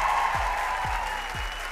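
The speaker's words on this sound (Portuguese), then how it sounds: "Eu quero que se batam bastante palmas pra Edilene Alves." Studio audience applause on a Brazilian Sunday TV variety show, a steady broadband wash of clapping held for about two seconds at moderate level, with faint low thumps underneath.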